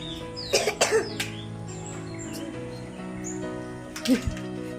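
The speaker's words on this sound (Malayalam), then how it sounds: "ഇത് ചുമ വലിയ ചുമയൊന്നുമില്ല" A couple of short coughs sound up close, followed later by another cough, against a quiet background with faint chirps.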